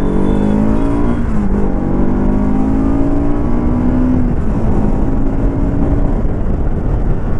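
A 2024 Bajaj Pulsar RS200 sports motorcycle engine drones loud and close while riding, its pitch climbing through rising rev sweeps as it accelerates, with steady wind noise and no talk.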